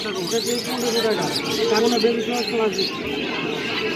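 Pairs of caged birds at the Mirpur 1 bird market in Dhaka chirp and twitter repeatedly in the background while people talk and bargain loudly nearby.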